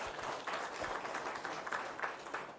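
Audience applause at a monetary policy statement event, a steady wash of clapping from a crowd, moderately faint and continuous for a few seconds with no voices over it.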